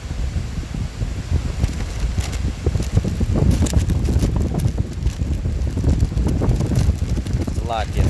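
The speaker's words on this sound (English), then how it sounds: "It's windy as hell" Strong gusts buffet the microphone with constant low rumbling and flutter throughout, loud and close, with a brief whistling tone near the end.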